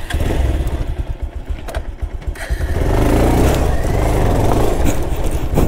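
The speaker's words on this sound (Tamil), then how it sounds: "முதல் முறையாக வாட்டரில் பைக் ரைட்" A motorcycle engine runs loud and close as it rides through water, revving and then holding steady, with a churning, splashing wash building underneath in the second half.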